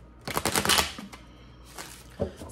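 Tarot cards are riffled and shuffled up close in a quick rapid burst, then a few softer slides and a final flutter.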